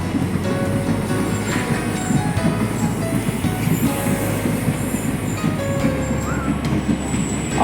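A passenger train bound for Cooch Behar approaches from a distance, its steady rumbling rail noise and faint wheel squeals filling the whole stretch with no talking.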